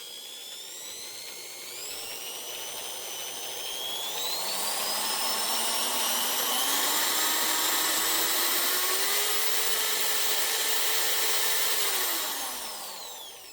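A power drill spins a wooden egg blank mounted on a nail, its whine climbing steadily to a loud, sustained high-pitched scream at maximum speed, then winding down near the end.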